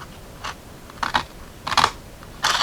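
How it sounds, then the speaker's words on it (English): Scissors cut along a score line on decorative paper for a three-tier envelope: four crisp, separate snips, close and clear, with quiet pauses between them. "put your scissors right here and cut up to that first score line."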